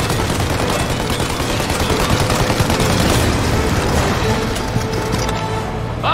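Sustained automatic gunfire and rapid shots in the video game Mafia: Definitive Edition, loud and dense throughout with no pause, a continuous fusillade that fills the whole stretch.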